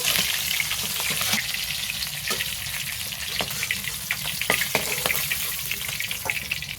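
Hilsa fish fries in hot oil in a pan, a steady close sizzle with crackling pops and spatters scattered throughout.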